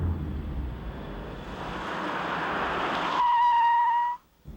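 A 1988 test car brakes hard during a brake efficiency check, a long rising rush of road and wind noise ending in a sharp, sustained tyre squeal before an abrupt stop.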